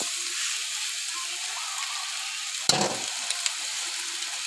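Rat meat stir-fried with holy basil sizzles steadily in a hot pan, with a sharp clatter of a utensil partway through and a few light scraping taps afterward.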